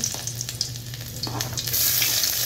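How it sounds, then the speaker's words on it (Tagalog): Onion sautéing in a pan as the start of a spaghetti sauce, a close, steady sizzle broken by scattered spatula scrapes and taps, growing louder and hissier toward the end with no voices. "Tayo po ay mag-saute po ng onion."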